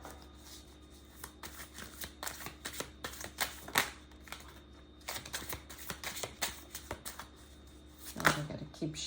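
Cards riffle and shuffle repeatedly in quick flurries of soft clicking taps, close up, with brief pauses and occasional quiet talk.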